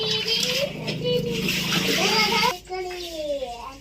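Water splashes and sloshes as it is poured into a newly bought household water cooler, heard close by but partly masked by a voice and other chatter running through most of the moment.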